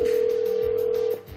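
A mobile phone call produces one long, steady ringback tone at close range that cuts off abruptly, followed by a brief quiet tail.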